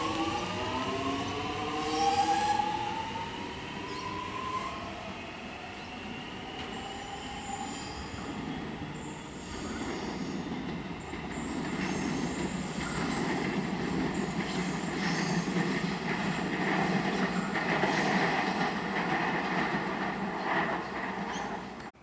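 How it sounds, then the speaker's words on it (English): An X'Trapolis suburban electric train pulls away from Laburnum station in Melbourne, a continuous close rumble with rising motor whine and wheel squeal that builds as the carriages roll past. "We've got an extrapolis departing 66M is at the rear."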